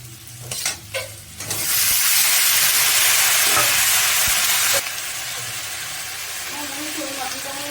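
Eggplant drops into hot oil in a pan, setting off a loud burst of sizzling and steamy hissing after a few clattering knocks, then settling into a steadier, quieter fry.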